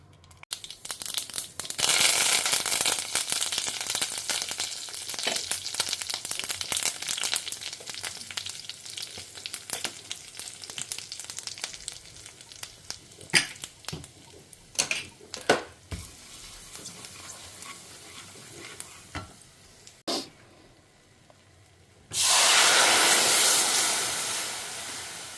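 Mustard seeds and fenugreek fry in hot peanut oil, a strong crackling sizzle with sharp pops and spatters. It fades toward the end, then a sudden loud burst of sizzling follows, heard close with no talk.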